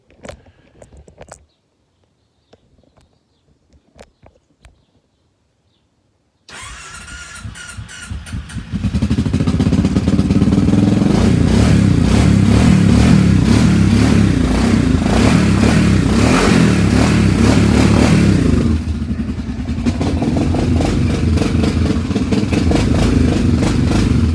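A Kawasaki KFX700 ATV with a suspected bad head gasket or cracked cylinder head, a few quiet clicks and cranking attempts, then the engine catches and runs loud and close, holding a rough, steady rev with slight dips.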